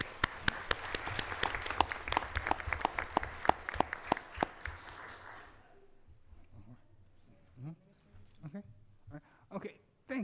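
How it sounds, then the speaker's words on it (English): An audience at a school board meeting gives a burst of applause with sharp, dense claps that fade after about six seconds. Scattered small noises and some talk follow. "Can we get another round of applause for her?"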